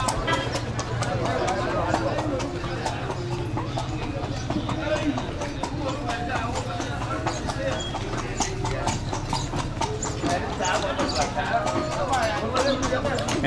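Horse hooves clip-clop steadily on pavement as a carriage rolls through Luxor, Egypt, close and continuous under ongoing conversation between passengers and the driver.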